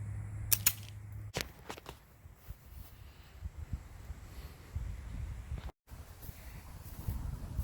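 A .45 ACP pistol firing a 230 grain round-nose Acme bullet outdoors, a sharp report near the start followed by a second crack, then wind and ambient noise.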